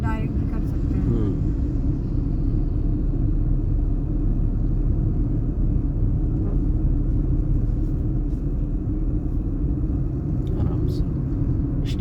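A car's engine in fourth gear produces a steady low rumble as the vehicle slows while driving, a constant droning road and engine noise heard from inside the cabin.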